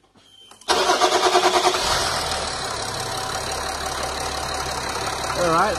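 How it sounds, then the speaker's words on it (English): A car engine being tested for an EGR fault cranks briefly, fires up loudly and settles into a steady, close idle. "now I'm going to start the car"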